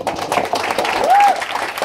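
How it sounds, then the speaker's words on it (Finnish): Applause and cheering from the crowd at a stand-up comedy solo show, a short, loud burst of clapping with a whoop rising over it. "Ensinnäkin antakaa ihan helvetin isot aplodit tälle"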